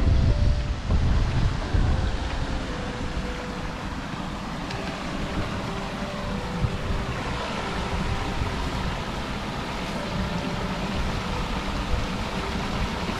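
A small waterfall flows steadily near the microphone, a constant broadband rush with wind noise, heard alone without any speech.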